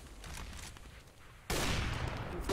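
Burst of rapid gunfire in a Counter-Strike style competitive shooter match, a sharp loud volley erupting after quieter background game ambience, with no talk over it.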